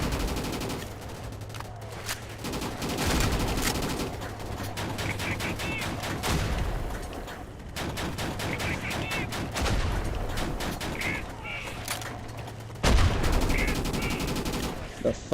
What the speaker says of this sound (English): The fuck is that, artillery?